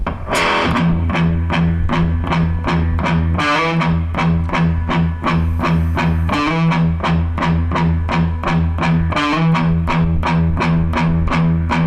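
Heavily distorted electric guitar chugging a riff on the open sixth string, tight repeated palm-muted low notes with brief higher figures between phrases, loud and steady throughout without any talking.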